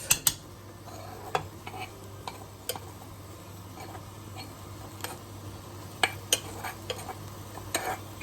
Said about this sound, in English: So now I've got my white basmati rice here. So I'm going to go in with that.